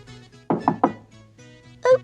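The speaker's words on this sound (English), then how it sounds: "there was a knock at the door" Three quick knocks on a door land close together, loud and near, over faint background music.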